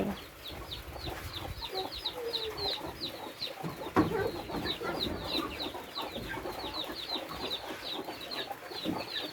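Many chickens cluck and chatter together nearby in a busy, continuous chorus, with occasional louder squawks over a low outdoor background.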